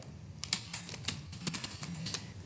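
Fingers tap a computer keyboard in a quick, uneven run of close, crisp keystrokes over a faint background hum, with no voices.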